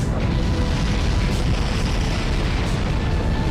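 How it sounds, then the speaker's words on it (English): Explosions in the aircraft combat video game Ace Combat 4: Shattered Skies, a dense continuous rumbling boom that stays loud for the whole stretch, with no speech. "I wouldn't be surprised if those explosions could actually reach into the ravines if they wanted to"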